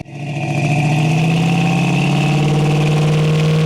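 A 1972 Ford Mustang convertible's 302 V8 catches and settles into a strong, steady run, a loud, close, even engine rumble with a firm low hum that carries on with no talking.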